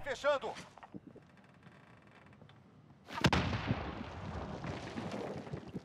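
Gunfire in Call of Duty Warzone: a sharp shot starts a dense, loud burst of firing and rumbling battle noise, after a quieter stretch with game sounds and voices near the start.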